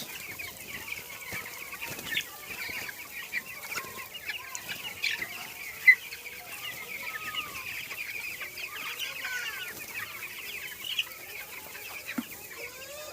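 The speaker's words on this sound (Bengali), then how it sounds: "তো বন্ধুরা, এটা হলো খড় দিয়ে মুরগি চাষ।" A flock of broiler chickens raised on straw bedding clucking softly and continuously, many overlapping calls with occasional louder squawks, fairly quiet and close.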